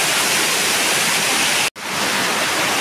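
Baahubali waterfall at Ranewadi pours in a steady, loud broadband roar of rushing water close by, broken only by one brief cut near the end before the same dense wash resumes.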